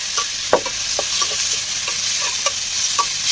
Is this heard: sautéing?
yes